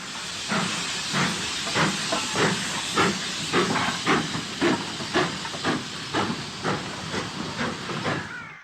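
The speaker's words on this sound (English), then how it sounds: "A long-term Thornton engine, Austerity 90472, passes through Cluny Bridge Junction at the west end of the marshalling yard" Austerity steam locomotive 90472, a Thornton engine, works through Cluny Bridge Junction at the west end of a Scottish marshalling yard with empty wagons for Dunfermline. Its exhaust beats come strong and rhythmic over a continuous hiss of steam.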